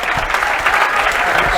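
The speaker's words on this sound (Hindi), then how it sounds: "एक बार जोरदार ताली से।" An audience breaks into dense, continuous applause to welcome a teacher, a steady wash of many hands clapping at once, loud and close, without pause.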